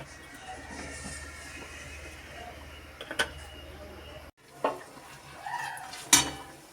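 Battered eggplant fritters (begunis) frying in hot oil, a steady low sizzle throughout with a few sharp clinks of a utensil against the pan, closely miked in a home kitchen.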